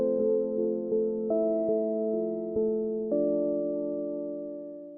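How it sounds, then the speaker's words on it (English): A soft, simple preset named At Ease from the Choreographs instrument by Slate + Ash, playing sustained layered tones whose notes shift in gentle steps, with small attacks at each change and a long, slowly fading tail. "I brought up one of the more basic patches in Choreographs called At Ease"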